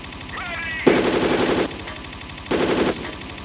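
Two bursts of rapid automatic gunfire from a gun in the shooter Dead Effect 2, a long volley and then a shorter one, loud and close over a steady background game hum.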